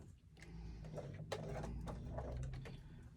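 A hand-cranked sewing machine stitching slowly around curves on a fabric pouch, giving a steady mechanical clatter with irregular ticks and thumps, close and continuous throughout.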